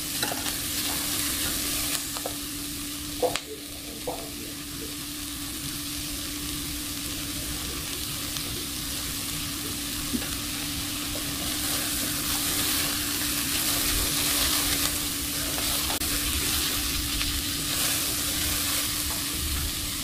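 Carrots fry in a pan for chicken and vegetable shawarma, a loud, steady sizzle and hiss that runs the whole time under occasional stirring scrapes and a few brief knocks, with no voices.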